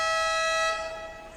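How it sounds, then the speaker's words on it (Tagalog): A loud, sustained buzzer horn sounds inside the Ligao Gymnasium to start a basketball game, holding steady for about half a second before fading into the hall's reverberant ambience. "napakinggan natin ang malakas na horn, signaling na start na po ang laban"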